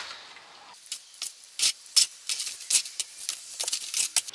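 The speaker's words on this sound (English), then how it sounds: "And we'll just mix this in now until we get a nice creamy mix." Wet sand and cement render mixed by hand, a close series of irregular scraping, slapping strokes with short pauses between them and no talk.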